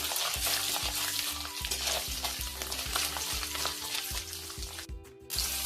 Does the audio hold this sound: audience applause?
no